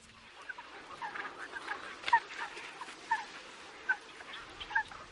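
Greylag geese call across the Villafáfila lagoons in autumn or winter, a few scattered faint honks sounding from a distance over a quiet background.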